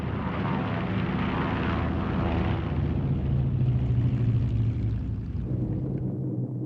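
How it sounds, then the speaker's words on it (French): A de Havilland Heron, a small 12-passenger propeller liaison aircraft, drones steadily with a loud, continuous engine roar that holds even throughout. "Le de Havilland Heron, par exemple, un petit appareil de liaison qui peut embarquer 12 passagers."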